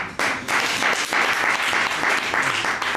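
Applause from an open mic audience fills the room, a dense steady clapping that starts abruptly and holds at a strong level throughout without letting up.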